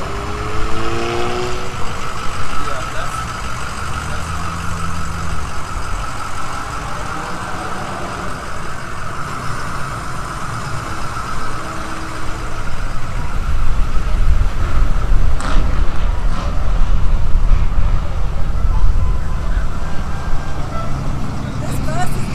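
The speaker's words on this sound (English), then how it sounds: "This bus is going to be nice." Bus rolling past at an outdoor spring rod run car show, its engine rumble building and growing louder in the second half, with other vehicle engines idling nearby and people chatting throughout.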